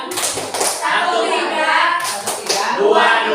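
Children at school clap a counted "tepuk 4" pattern, with sharp claps and taps coming in clusters. Kids' voices chant the count along with the clapping.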